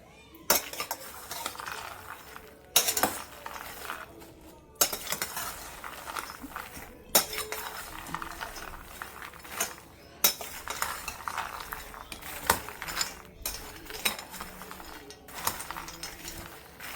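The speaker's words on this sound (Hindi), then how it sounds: "मैं दोनों को मिक्स कर लूंगी।" Two ingredients, roasted dry fruits among them, stirred together in a bowl with a spoon, giving steady scraping and clinking strokes with short pauses over about seventeen seconds, close and fairly loud with no talking.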